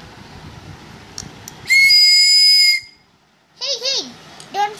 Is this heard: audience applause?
no